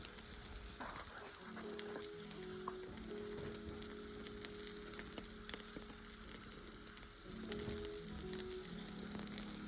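Faint, continuous crackling and sizzling of quail frying in a pan, with low murmuring tones and small scraping sounds underneath.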